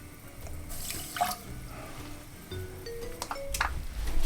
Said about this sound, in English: I'm going to put about half a cup of water in there.